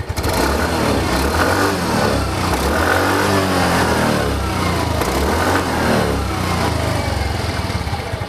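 Engine of a 2019 Yamaha QBIX scooter with about 6,000 km on it, revved steadily up and down at close range, a continuous loud buzzing drone for the whole stretch with no talking.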